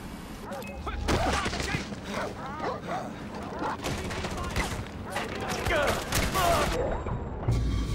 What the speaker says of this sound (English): I don't know who's shooting at me